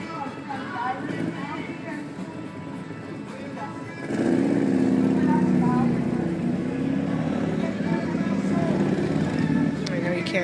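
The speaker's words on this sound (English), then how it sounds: "somebody on a motorcycle. It's pretty loud." A motorcycle engine roars up suddenly and stays loud, drowning out a voice talking quietly in the background at an outdoor candlelight vigil.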